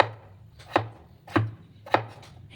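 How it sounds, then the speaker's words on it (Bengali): Potatoes thinly sliced with a knife on a cutting board, three crisp distinct chops spaced roughly half a second apart, close and clear with a low steady background hum. "আলুগুলোকে একটু পাতলা পাতলা করে কেটে নিতে হবে"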